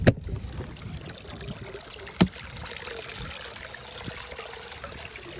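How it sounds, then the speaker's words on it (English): Water flows and trickles steadily out of a solar powered pool pond filter pump set to its lowest setting, a soft continuous splashing with a couple of sharp knocks along the way. "Should be coming out nice, clean water."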